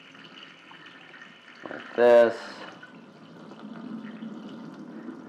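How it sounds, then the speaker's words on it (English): Water is poured off soaked lentils in a short, close splash that fades into a faint trickle, with a person talking over it. "So then we pour out the water slowly"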